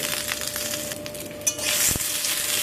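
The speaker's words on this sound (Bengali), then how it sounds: "সবজিগুলোকে একটু নেড়ে চেড়ে আমি ভেজে নেব হালকা করে" Steady frying and sizzling of vegetables including broad beans in a pan, with a brief clink of a utensil midway, close up and without talk.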